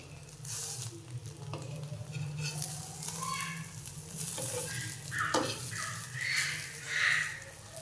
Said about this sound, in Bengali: উল্টো পিঠটা হালকা ভাজা হয়ে গেছে